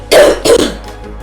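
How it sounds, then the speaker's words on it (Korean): Two quick, loud, close coughs in rapid succession, with a faint trailing breath afterward. "기침 자꾸 나오네"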